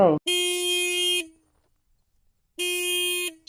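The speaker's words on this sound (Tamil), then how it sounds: "இவ்வளவு வழி இருக்கு என்ன தெரியாம இங்க வந்து ஹார்ன் அடிச்சுக்கிட்டு." Two long, loud blasts of a car horn, close by, separated by a brief silence, with a short snatch of a voice at the start.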